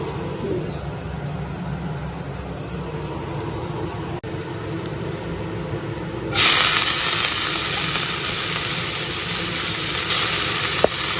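Black cumin seeds dropped into hot oil in a home kitchen set off a sudden, loud, steady hiss partway through, which holds evenly over a low background rumble until the end.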